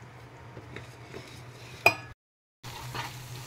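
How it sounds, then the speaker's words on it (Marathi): Moong dal halwa with rava and besan being stirred in a pan, a soft steady scraping with one sharp metallic clink near the middle, then a brief silence before the stirring resumes. "असं नॉनस्टॉप हलवत राहायचं आहे, खूप छान हलवा तयार होतो"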